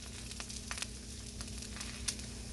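Quiet, continuous sizzle of eggs frying in a pan with small crackles and pops, and a low steady hum underneath; no talking.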